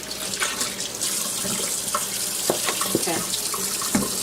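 A tap runs steadily into a kitchen sink while hands are washed, with close splashing and a few brief drips and knocks, and one short spoken word.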